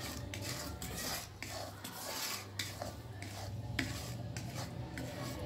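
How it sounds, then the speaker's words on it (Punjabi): Gram flour roasting in ghee over low heat, stirred in a pan: steady soft scraping and rubbing with light utensil clinks, fairly quiet and continuous, no talking. "ਨਾਲ ਦੀ ਨਾਲ ਆਪਾਂ ਜਿਹੜਾ ਬੇਸਣ ਆ ਇਹਨੂੰ ਵੀ ਇੱਦਾਂ ਹਿਲਾਉਂਦੇ ਰਹਿਣਾ ਆ"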